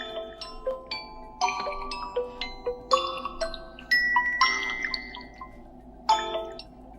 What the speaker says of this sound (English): pick up the phone to lower ringtone volume